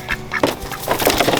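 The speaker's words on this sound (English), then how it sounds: "We got Cheese, we got the other duck Quackers" A homestead duck in a garden quacks repeatedly and close by, a quick series of raspy nasal calls with short gaps between them.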